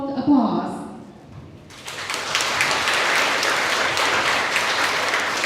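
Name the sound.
audience applause at evening event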